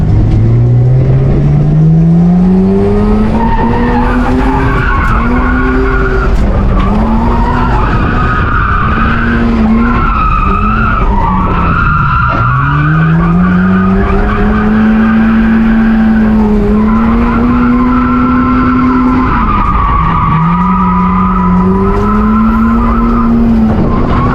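A Mazda RX-7 FC coupe on a driving run gives a loud, continuous tire squeal with an engine note rising and falling underneath, sustained and close for the whole stretch, no voices.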